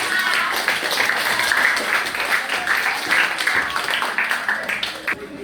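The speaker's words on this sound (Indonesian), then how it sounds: "Kita berikan aplaus sekali lagi buat teman-teman." Classroom of schoolchildren applauding their classmates, a steady crowd of clapping hands sustained for several seconds at close range, with voices mixed in.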